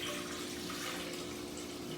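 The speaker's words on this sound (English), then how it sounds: "Pour it all in here." A quart of beef stock pours into a saucepan in a home kitchen, a steady close splashing rush of liquid that runs unbroken with no voices.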